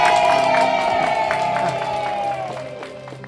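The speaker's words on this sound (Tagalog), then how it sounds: "At lahat ng naniniwala ay pumalakpak ng malakas." A church congregation claps and cheers loudly together, a dense, steady wash of applause filling the room while a sustained tone carries underneath, gradually easing toward the end.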